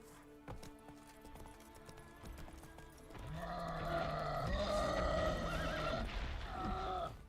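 Horse in the Witcher 3 video game whinnying loudly and clearly, with hoof clip-clops and game sounds beneath, the neigh rising and sustaining through the second half.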